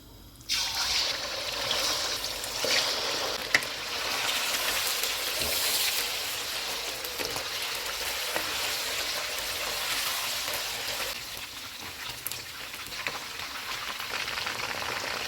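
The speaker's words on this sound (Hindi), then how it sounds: "इसमें चिकन डालेंगे। चूल्हे को फुल रखेंगे और चिकन को गोल्डन ब्राउन होने तक फ्राई करेंगे" Chicken pieces fry in hot oil in a karahi over a full flame, a continuous loud crackling sizzle that starts abruptly and holds steady with faint pops, no talk.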